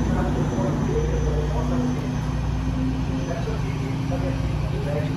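A ferry's engine drones with a steady low rumble and hum as the boat pulls away from port on a short crossing, constant and fairly loud throughout.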